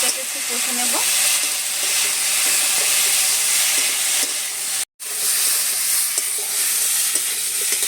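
Fish and taro frying in a pan, a steady broadband sizzle with stirring scrapes running continuously, briefly cut off near the middle before resuming.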